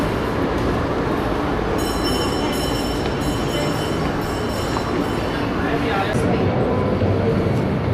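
A train rumbles past continuously with wheel squeal and metallic rail noise at a mall by a canal, loud and close throughout, while people talk over it.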